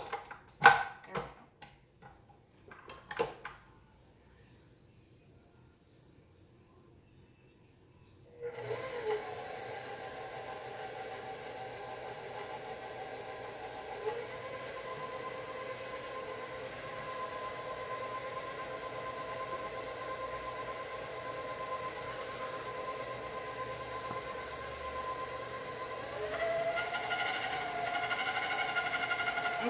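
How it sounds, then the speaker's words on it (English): A blender whirs steadily for about twenty seconds as a holiday baking mixture is blended, loud and close, after a few sharp knocks and a quiet pause at the start. "So now we're gonna start blending this while I get the molasses ready."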